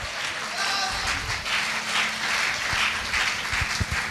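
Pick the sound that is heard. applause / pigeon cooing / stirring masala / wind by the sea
applause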